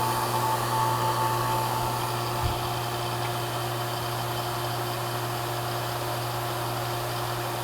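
Steady, loud drone of a vacuum pump evacuating an air conditioner system during HVAC service, a continuous hum with a constant tone and no breaks, running alone.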